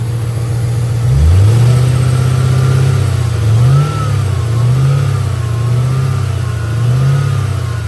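A Ford Mustang GT with a 4.6 2v engine runs close by, idling with a steady low rumble and revving up several times in smooth swells.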